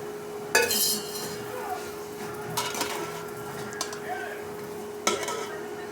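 Cooking meal maker (soy chunk) gravy in a pan: a spoon stirs and scrapes while a steady sizzle continues, with a few sharper clinks against the metal.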